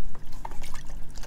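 Water poured onto dry dog kibble in a bowl gives a short, close run of wet dripping and trickling, with liquid splashing over the hard pellets.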